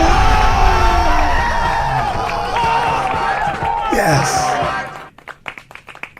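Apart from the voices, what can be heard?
cheering and applause sound effect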